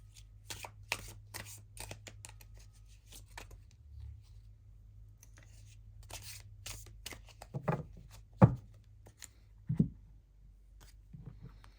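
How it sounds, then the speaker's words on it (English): Soul tree oracle cards being shuffled and drawn, a quick run of crisp riffling flutters followed by a few soft, close slaps and taps as cards are laid down, no speech. "Let's draw a couple soul tree cards."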